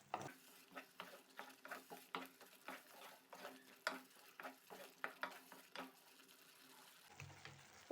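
Spinach fries in a pan for a palak gojju, with a quiet sizzle under a regular rhythm of spatula scrapes and taps against the pan, close and steady with no voices, ending in a brief soft clatter.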